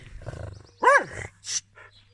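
A dog gives a short, loud bark-like yelp with a rising and falling tone, followed by a quieter yip, close by in a home over low background hum.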